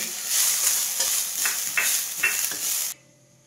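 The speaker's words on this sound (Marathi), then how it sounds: "हा नारळ आहे तर तोही थोडासा तुपावरती भाजून घेते" Grated coconut roasting in ghee in a pan gives a steady sizzle, broken by scraping stirs from a spoon, then drops suddenly to near quiet as the heat or stirring stops.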